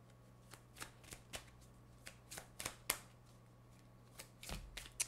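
Romance Angels Oracle cards are shuffled by hand in a quiet room, making soft riffling slaps and irregular papery clicks, near and faint.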